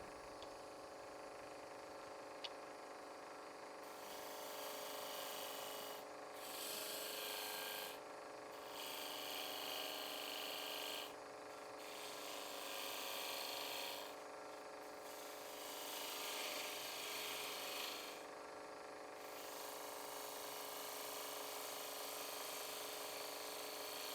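A lathe turns while a scraper cuts the wooden lid fitting of a suction-fit box, giving a steady motor whine with repeated rasping passes that start and stop every few seconds, close and without speech.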